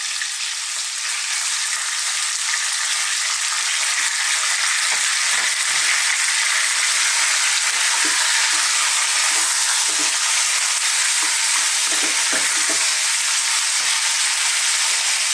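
Cubed boneless beef with a little fat, lightly salted, sizzles steadily in a hot pan for a curry, a dense, continuous frying hiss with occasional crackles and stirring pops throughout, no voices.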